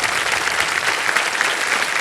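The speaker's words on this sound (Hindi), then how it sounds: "तालियां बज जाए इनके लिए।" Studio audience applause on a Hindi television quiz show, a steady dense wash of clapping filling the whole moment, loud and close with no voices over it.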